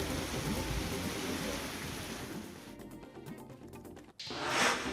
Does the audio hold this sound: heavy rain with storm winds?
yes